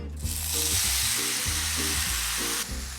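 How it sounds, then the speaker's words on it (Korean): Julienned potatoes hit hot olive oil in a heated pan and burst into a loud, steady sizzle that holds for over two seconds, then cuts off sharply, with a low droning tone running underneath. "그러면 이거 이제 볶아 볼게요 팬이 달궈지면 올리브오일 두르고 빼놓은 감자를"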